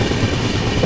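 A packed passenger train moving on its tracks during an overtake on the Shatabdi Express route from Chennai Central to Bengaluru, a brief, loud, close rumble of rolling wheels.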